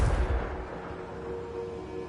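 The Confringo fire spell from Hogwarts Legacy goes off as one loud boom at the start, then a rumbling blast decays into a low, fading tail.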